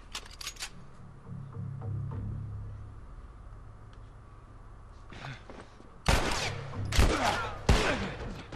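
Gunshots in the video game The Last of Us: a few sharp cracks come early, then a quiet stretch with low rumbling, then a cluster of loud, close shots near the end.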